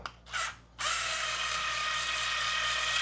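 A small electric drill, a skill drill driving a screw, whirs steadily at close range for a few seconds after a couple of brief starts.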